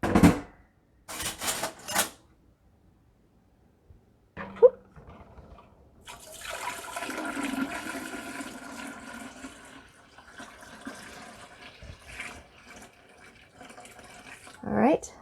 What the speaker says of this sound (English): So you're just going to pour some water in there.